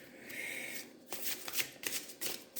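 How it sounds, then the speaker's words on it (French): Tarot cards being shuffled and drawn from a deck: a smooth riffling sweep, then several quick, crisp card snaps and flicks up close, with no voice. "je vais tirer la dernière carte, celle qui conclut"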